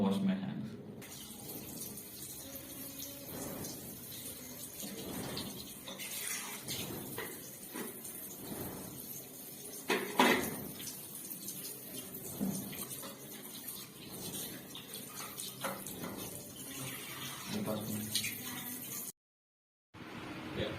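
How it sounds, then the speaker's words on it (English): Hands are washed under a running water tap, a steady hiss and splash of flowing water in a room with faint voices heard under it, briefly cut off near the end. "here's how I'm going to wash my hands."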